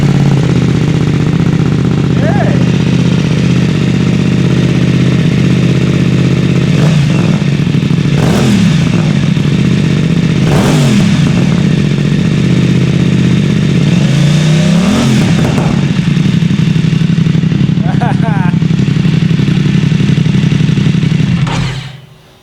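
A BMW F900XR motorcycle fitted with an Akrapovič exhaust starts up and idles with a steady, deep throaty rumble, breaking into several sharp revs close by before the engine cuts off at the end.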